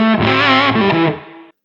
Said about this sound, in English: You can go from these really kind of low gain, kind of crunchy fuzz tones